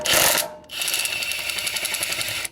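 A 10 mm six-point swivel socket on a ratchet loosening the angled AC line nuts on a compressor, giving a rapid, steady run of close metallic clicking for about two seconds after a brief first burst.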